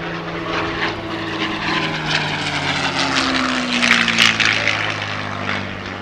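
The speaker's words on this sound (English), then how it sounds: "Lovely to see Peter's distinctive style of display back on the airshow circuit once again, with his trademark mix of low passes and graceful barrel rolls" A propeller aircraft flies a display of low passes and barrel rolls at the Southport Airshow, its engine droning loudly and steadily as it passes, with the pitch shifting and swelling midway.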